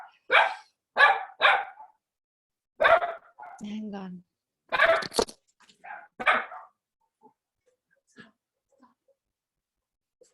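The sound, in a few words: dogs barking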